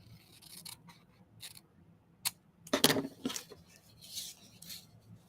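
A decorative blade trimmer cuts the edge of scrapbook paper in a few quiet close-up clicks and slides, with a sharper cutting sound in the middle and light rustling of paper around it.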